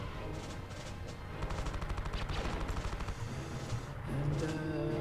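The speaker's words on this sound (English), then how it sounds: "let's just fire a couple missile salvos off" Missile salvos fired at a bomber in a Star Wars space combat game, a rapid rattling burst of repeated shots rolling over a steady engine drone, moderately loud.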